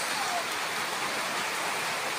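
Steady rain falling, an even broadband hiss throughout with no breaks, moderately loud and close.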